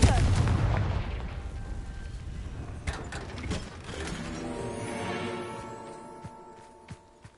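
A Confringo fire spell in Hogwarts Legacy blasts with a loud crackling burst at the start, followed by rumbling, clattering impacts and debris that gradually fade over several seconds.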